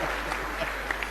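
Audience applause at a Hindi comedy poetry show, a short, steady patter of clapping heard at moderate distance with no speech over it.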